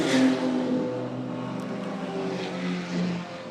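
Turbocharged BMW race cars scream past the start-finish line at a circuit race meeting, a loud sustained engine roar with shifting pitch as the pack goes by close, continuous throughout.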